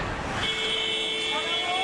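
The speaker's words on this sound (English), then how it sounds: "now the buzzer sounds and the first period is done" Ice hockey arena buzzer sounding to end the first period of an IIHF under-18 game between Poland and Great Britain in Tallinn, a sustained tone held over crowd noise and commentary.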